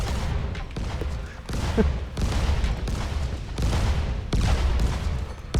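Fireworks in the zombie game Dying Light crackle and boom in rapid repeated bursts, loud and close, with a few rhythmic thumps running through.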